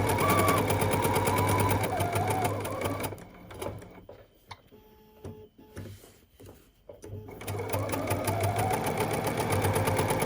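Sewing machine back stitching over seams on a fabric face mask: a rapid, steady mechanical whirring that stops for a few seconds of quiet clicks and handling, then resumes running at the same pace, close and alone.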